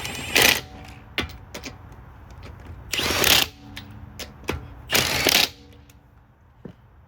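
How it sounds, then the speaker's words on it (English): Wheel lug nuts are tightened in a star pattern while swapping to snow tires, with bursts of rapid ratchet clicking separated by sharp metallic clinks, close and distinct. "So now I'm just torquing down all of these in the star pattern"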